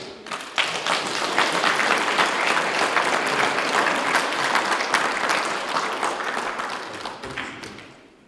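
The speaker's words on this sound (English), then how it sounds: "Let us give a round of applause." Guests at a Tuvaluan and Tongan wedding ceremony applaud after the couple kiss, a steady, dense round of clapping from many hands that holds strongly for several seconds before tapering off at the end.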